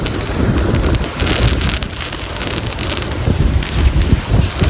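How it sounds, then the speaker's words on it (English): Strong gusting wind buffets the microphone with a loud, continuous roar, broken by rushing surges, with no talking. "Windy day here on Brighton Beach today"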